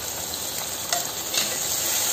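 About 100 grams of chopped tomatoes fry in masala for dhaba-style paneer bhurji, a loud continuous sizzle with a couple of brief stirring scrapes and no voices.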